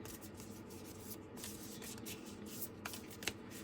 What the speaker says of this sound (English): This is a really hard deck to shuffle, and it's barely used.